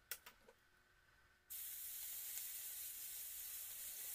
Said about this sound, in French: je rajoute la viande dedans